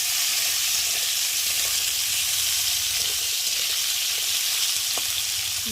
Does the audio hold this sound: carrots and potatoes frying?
yes